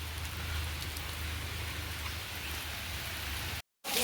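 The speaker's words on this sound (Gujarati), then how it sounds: "ફૂલ વરસાદ આવી ગયો" Heavy rain pours steadily in an open outdoor setting, a dense continuous hiss of drops close by, with no voices, then breaking off briefly near the end.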